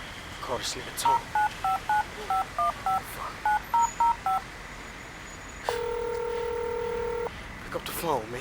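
Telephone keypad dialing tones in a 2001 hip-hop track, a quick series of about a dozen separate beeps followed by one long sustained tone, heard fairly clearly over a quiet music bed.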